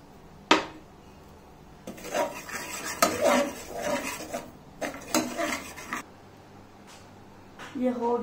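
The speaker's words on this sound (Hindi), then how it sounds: "हम सूजी को भून लेते हैं।" Semolina is roasted in a pan while a metal spoon scrapes and clinks against it in irregular bursts of stirring. One sharp knock comes near the start, and a few soft background sounds come between the scrapes.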